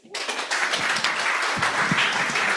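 An audience at an investment summit applauds, with a dense, steady burst of many hands clapping at once that continues throughout without fading.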